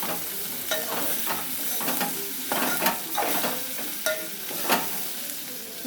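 Capsicum frying in a pan hisses continuously while a spatula stirs it in repeated scraping strokes, irregularly spaced and close by, with no talking.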